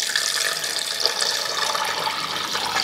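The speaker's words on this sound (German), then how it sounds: "Fülle das hier jetzt einmal mit Wasser auf." Tap water runs steadily into a cooking pot, filling it for a couscous chicken broth in a home kitchen; a continuous, fairly close splashing hiss with no voices.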